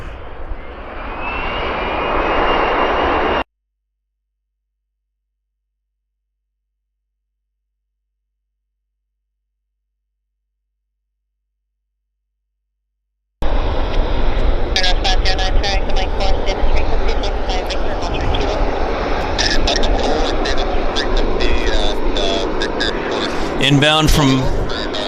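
A fixed-wing airliner landing at Vancouver airport, arriving from the north, gives a loud steady engine roar up close, cut off by a long silent gap, then returns as broad rumbling roar with rattling and a brief voice near the end.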